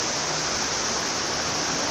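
Rainwater pours like a waterfall down a flooded street during a heavy storm, a steady dense broadband rush that holds constant and alone throughout.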